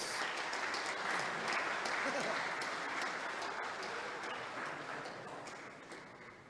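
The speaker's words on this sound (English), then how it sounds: "I'm going to ask you to give a massive Primrose round of applause to Uncle Solly Ismail." An audience at a youth cricket tournament media launch applauds, with sustained dense clapping that starts strong and gradually tapers off over several seconds.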